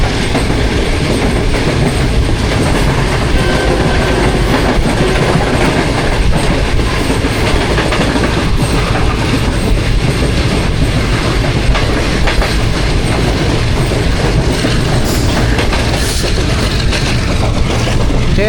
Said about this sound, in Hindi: 10 बजे एक और ट्रेन को ओवरटेक कर रहे हैं